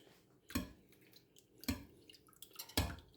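Soft cheese curd for kelle peyniri being broken into small pieces as whey drains out, heard as three wet, splashy bursts spaced about a second apart over quiet liquid trickling.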